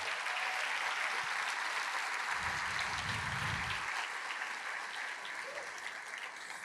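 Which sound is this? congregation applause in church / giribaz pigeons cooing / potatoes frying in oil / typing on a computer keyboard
congregation applause in church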